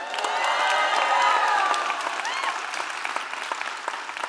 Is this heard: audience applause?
yes